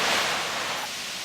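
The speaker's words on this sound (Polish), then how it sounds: "Kolejne stopnie tego wielkiego wodospadu." The large multi-step YS Falls in Jamaica, a river cascade about 40 metres high over seven tiers, gives a steady broad rushing roar close by, with no voices.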